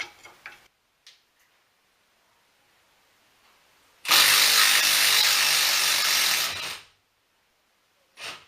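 An impact wrench working a wheel bearing bolt loose on a Ford Taurus, one loud sustained rattling burst of about three seconds after quiet clicks, with a short tap near the end.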